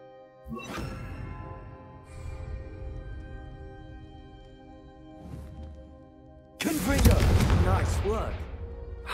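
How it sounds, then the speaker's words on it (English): Confringo spell blasts in Hogwarts Legacy: a whooshing burst early on, a softer one midway, then a loud, sustained fiery explosion near the end over a humming magical backdrop. "a Confringo cast travels a bit farther than that of a spell like Incendio"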